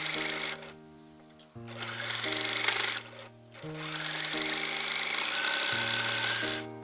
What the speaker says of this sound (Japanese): 裾を縫おう。